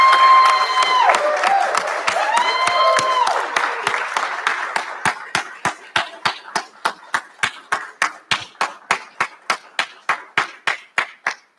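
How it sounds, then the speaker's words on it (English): Graduates at a recognition ceremony give their faculty and staff a loud ovation. Dense applause with cheers and whistles comes first, then it settles into strong, evenly timed clapping in unison that slows slightly toward the end. "give them a rousing round of applause"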